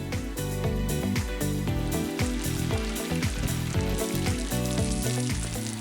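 Tiny noodles hit hot oil and sizzle and crackle steadily and close up, with background music playing throughout.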